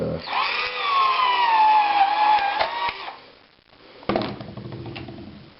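A power drill with a small bit whines steadily for about three seconds while drilling a plastic hockey mask, its pitch sagging slightly under load, then cuts off; a voice starts speaking near the end.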